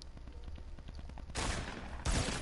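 Video game gunfire, first as a quick run of light rapid shots, then two loud, dense bursts of heavy fire up close.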